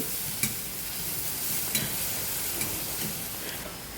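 Brinjal curry stirred in a pan, a steady frying sizzle with periodic scraping strokes of the spoon every second or so, close and alone with no talk.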